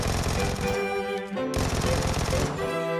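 Rapid submachine gun fire in a shooter video game's team deathmatch, a dense, loud, sustained burst of closely spaced shots with a brief dip midway, no talking.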